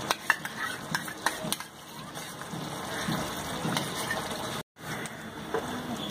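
A yogurt and spice mixture stirred in a pan, with repeated scraping strokes of a utensil over a soft sizzle at close range.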